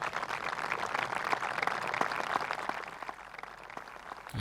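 Golf spectators applaud steadily around the 18th green at a Challenge Tour event, a continuous wash of clapping at moderate distance with some sharper individual claps standing out.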